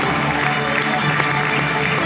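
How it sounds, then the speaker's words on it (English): Audience applause at a disability inclusion awards ceremony in Chennai, dense steady clapping from a crowd filling the hall without pause. "All of these applause and more are well deserved."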